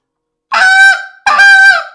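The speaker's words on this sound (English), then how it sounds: "My goose calling definitely has gotten a little bit better." A handheld goose call blown by a hunter practicing, two loud honking notes in quick succession, close and clear with nothing else audible.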